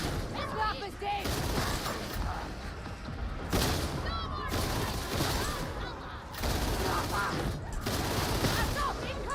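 Dense, sustained suppressing gunfire from the video game Warhammer 40,000: Darktide, a continuous wash of rapid shots and impacts with louder bursts throughout, mixed with game voices and talk.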